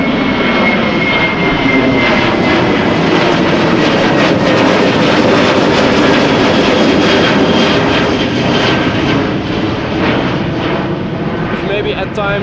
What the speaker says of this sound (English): These are the most difficult planes to capture. They fly almost directly over you.